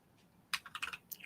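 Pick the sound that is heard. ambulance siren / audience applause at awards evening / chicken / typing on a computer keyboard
typing on a computer keyboard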